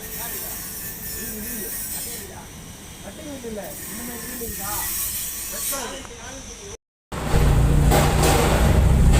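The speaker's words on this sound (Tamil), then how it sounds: "இங்கே மெட்ரோ வேலை நடந்துக்கிட்டு உங்களுக்கு சத்தம் கேட்கும்" A steady roar and hiss of metro construction machinery and traffic on Nungambakkam High Road in Chennai, with a voice talking in Tamil over it; the noise cuts out briefly, then returns louder.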